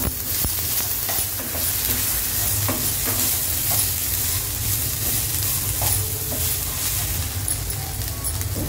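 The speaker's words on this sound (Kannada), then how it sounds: "1 ಸ್ಪೂನು ಜೀರಿಗೆ ಹಾಕ್ತೀನಿ. ಈರುಳ್ಳಿ ಸ್ವಲ್ಪ ಗೋಲ್ಡನ್ ಬ್ರೌನ್ ಆಗಬೇಕು." Onions frying in oil with cumin seeds, a loud continuous close sizzle with occasional spoon-stirring clicks and scrapes, no talking.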